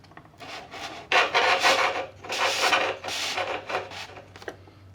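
Scratchy rasping bursts as barbecue skewers are poked through holes in foam board, several uneven pushes in close succession, near and fairly loud with quiet gaps between.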